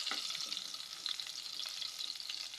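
Stingray fish fries in hot oil, a dense close sizzle with crackling spatter and occasional stirring, steady throughout with no voices.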